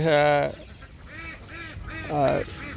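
Ducks on a farm honk and quack in several loud, close calls, with a harsh burst at the start and more calls following, under a faint background.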